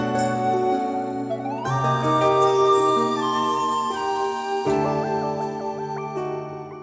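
A synth arrangement of a theme from Breath of the Wild plays sustained pad chords. A gliding lead melody and bright tinkling notes sit on top, all smooth and unhurried, with no talking.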